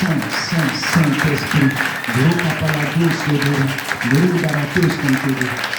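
A church congregation claps and cheers loudly in praise of the Holy Spirit, sustained applause mixed with voices shouting and calling out throughout.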